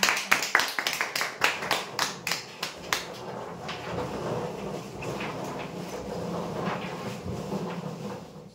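A small crowd at a prize draw claps in sharp, uneven bursts for a few seconds, then the clapping fades into a low murmur of people.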